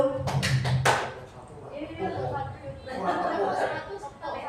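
A group of adults in a training session claps in a call-and-response clapping game: a few sharp, quick claps at the start, then chatter and light laughter from the group.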